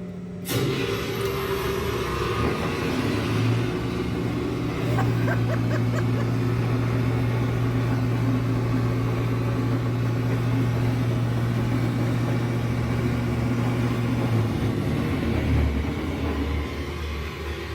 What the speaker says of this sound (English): Proceed to the generator control panel and turn the knob below the flashing red light to test the